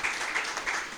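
An audience gives the sports division a round of applause at a Dominica netball team event, a brief burst of dense clapping heard at moderate distance.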